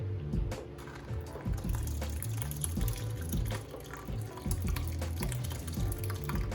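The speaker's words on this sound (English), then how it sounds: "I'm gonna pour a little bit in." Black currant concentrate is poured into two strainers, giving a soft continuous liquid trickle with small splashes and drips, fairly quiet and close, alone without talk.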